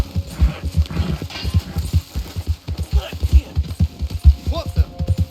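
Horse hooves clip-clopping at a steady galloping rhythm in Red Dead Redemption 2, close and prominent, with a rider's brief voice and a low background hum underneath.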